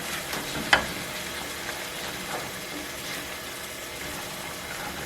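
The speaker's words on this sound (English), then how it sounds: "And then I just kind of stir all this together." Pasta sauce cooks on the stove with a constant low sizzle and rumble while it is stirred, and a single louder clunk stands out early on.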